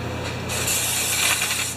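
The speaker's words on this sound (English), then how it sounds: "I'm just going to spray this up a little bit." An aerosol can sprays a steady hiss onto the flywheel area of a Merry Tiller engine that will not start, one continuous burst of under two seconds, close up and heard alone.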